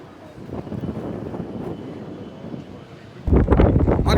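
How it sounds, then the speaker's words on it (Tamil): Strong wind roars and buffets the microphone at the center of the Pamban bridge, a broad steady rush that surges much louder near the end, with a rumble like a passing train beneath it. "சென்டர் பிச்சில் காற்று எவ்வளோ காற்று அடிக்குன்னு பார்த்துக்கோங்க"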